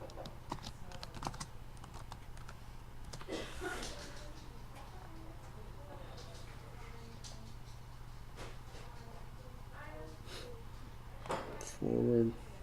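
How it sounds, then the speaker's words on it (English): Keys click on a computer keyboard as a password is typed during a Manjaro Linux install, producing quick irregular taps over a low steady hum, close by, followed by a louder final keystroke. "I'll type in my password, which you guys won't find out."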